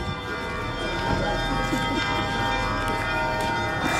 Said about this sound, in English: So the bells are tolling,